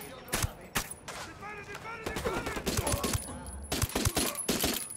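Gunfire in the video game Ghost Recon Wildlands, sharp shots and short bursts cracking in irregular clusters, a few near the start and a denser volley toward the end, with in-game radio chatter and voices between them.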